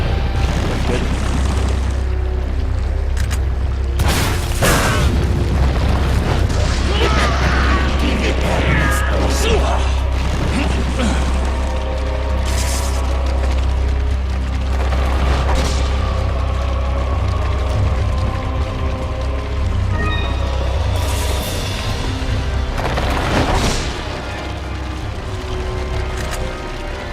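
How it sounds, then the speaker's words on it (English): Rocket launcher blasts and explosions in Resident Evil 4 land as heavy booms over a rumbling low-end game soundscape, with someone talking throughout and several sharp bursts punctuating the action. "laying down with the rocket launcher"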